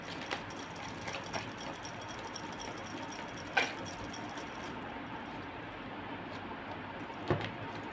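A deck of tarot cards is shuffled by hand, giving a close run of rapid papery riffles and soft slaps for the first few seconds, then quieter handling with one or two brief flicks and no speech.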